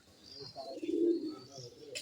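A pigeon gives a soft, low cooing call that swells and fades over a couple of seconds, close by, with faint chirps in the background.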